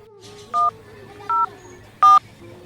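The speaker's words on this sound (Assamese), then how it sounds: "আপুনি সোনকালে ফোন কৰকচোন এতিয়াই ফোন কৰক" A telephone dials the 104 helpline number: three short, clean keypad tones sound at a steady pace over a quiet background.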